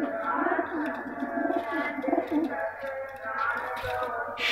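Pigeons kept by a fancier coo softly at a loft. Low, rolling coos repeat under a voice.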